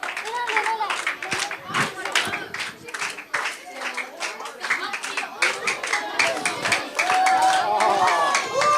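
Children's ministry audience at a Christmas event clapping in scattered bursts that build into fuller applause toward the end, close and lively, with voices talking in between.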